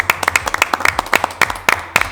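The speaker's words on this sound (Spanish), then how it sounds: "Nos aplaudimos nosotros solitos, porque no tenemos público" A small group claps by hand, a few people producing quick, uneven slaps close by without a crowd.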